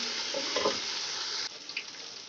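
Ginger garlic paste fries with golden brown onions in a pan, giving a steady, close sizzle with a brief stirring scrape partway through.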